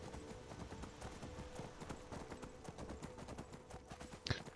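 Horse hooves clip-clopping in modded Skyrim as a horse is ridden, a quick rhythmic series of hoof beats, fairly faint, with a sharp short sound near the end.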